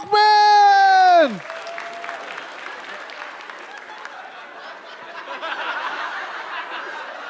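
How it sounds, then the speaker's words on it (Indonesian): After a loud harmonic musical sting that sweeps downward, a stand-up comedy competition audience breaks into continuous moderate applause mixed with chuckles and crowd noise, swelling slightly toward the end. "Beri tepuk tangan yang meriah untuk"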